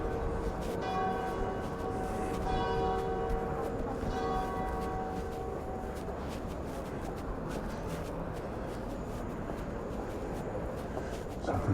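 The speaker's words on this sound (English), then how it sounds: "There's the 10 o'clock bells going." Church bells ring out the ten o'clock hour over a street in San Antonio, Palma de Mallorca, their clear repeated peals strongest in the first half and then fading beneath steady outdoor ambience and footsteps.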